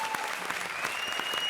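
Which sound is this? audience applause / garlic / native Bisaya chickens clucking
audience applause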